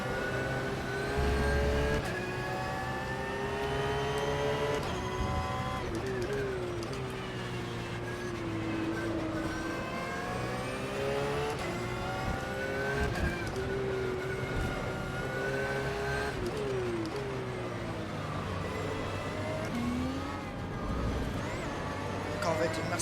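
Race cars roar through a racing video game, a Corvette and a Mercedes among them, their engines revving and shifting steadily and loud throughout, with someone talking over them.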